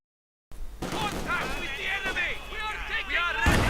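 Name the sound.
field gun and mortar fire in Company of Heroes 2 video game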